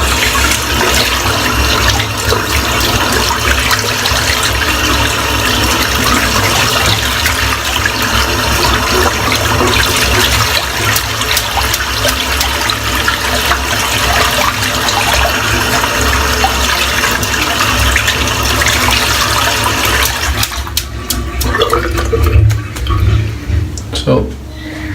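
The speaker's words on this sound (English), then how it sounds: "Just going to add a little touch of hot water in there to try and help get the soap out." Hot water running steadily from a tap into a sink while rinsing soap from a shaving brush, a loud continuous broadband rush that tapers off near the end, with a voice talking over it.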